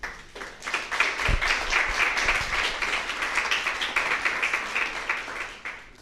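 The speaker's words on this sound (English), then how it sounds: "Warm applause for these experts here." Audience applause at a digital health panel during a Munich business week event, a dense, steady clapping that builds quickly, holds for several seconds and then fades near the end.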